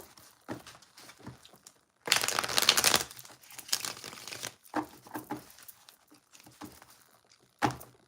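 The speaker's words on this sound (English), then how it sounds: "Let's get a good little shuffle in here." Tarot cards being shuffled by hand during a live card reading, giving bursts of papery riffling and crinkling, with a loud dense flurry in the middle and softer scattered card taps before and after, close and with no talk.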